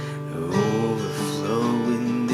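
An acoustic guitar in standard tuning with no capo plays the sustained chorus chords of a song. The chords ring warm and even at a moderate level, with no drums.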